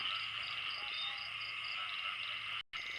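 Frogs croak in a dense, continuous night chorus around four in the morning, a steady pulsing trill close by, with a brief dropout near the end and no speech.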